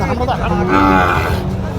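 A Sahiwal bull at a cattle market in Joypurhat lets out one long, loud, close moo, with faint crowd noise around it.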